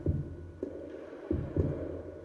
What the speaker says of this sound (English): I like the heartbeat they got going here.